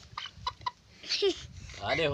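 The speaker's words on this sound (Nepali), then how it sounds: "यो देउता छ नि कुकुरो मुर्गो भाले हो" A rooster clucks a few short, close notes between and beneath a man's speech in a rural farmyard setting.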